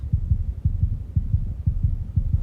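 Heartbeat sound effect in a Marvel series, a steady run of deep paired thumps, about five double beats in quick, even lub-dub rhythm, close and loud with nothing else heard.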